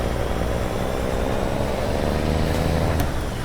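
A steady low growl comes from the Cummins N14 600 diesel of a Peterbilt 389 with a belly dump trailer in American Truck Simulator. It holds an even hum throughout, with a faint brief tick near the end.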